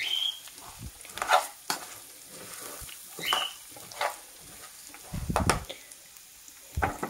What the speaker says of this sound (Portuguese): Alho pra fritar, pra temperar o feijão